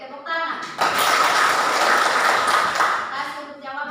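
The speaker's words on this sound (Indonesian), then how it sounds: "Oke, tepuk tangan." A class of students bursts into applause in a school classroom, a sustained wash of clapping that lasts about two seconds and then fades, with a teacher's voice talking before and after.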